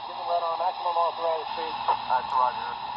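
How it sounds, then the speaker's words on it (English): Tinny city-sounds ambience from an HO-scale Big Boy model train's sound decoder, with muffled voices and street murmur under a steady electronic hiss. "10 I have set for city sounds"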